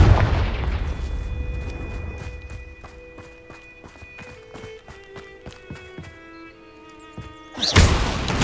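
A Confringo fire spell blast bursts loudly near the end in Hogwarts Legacy, after a long stretch of clopping footsteps and sustained musical tones.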